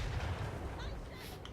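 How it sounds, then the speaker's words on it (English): Warp Lightning cannons fire at a Grand Cannon during a video game battle, giving a dense, rumbling barrage of low booms and crackling blasts that runs steadily throughout, mixed with talking. "All my Warp Lightning cannons start to fuck up this Grand Cannon."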